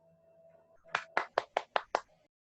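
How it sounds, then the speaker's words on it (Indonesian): Half a dozen sharp, evenly spaced hand claps ring out in a quick burst, applause for Tony at a Pentecostal church history and theology class, fading into silence afterward. "Tepuk tangan buat Tony dong"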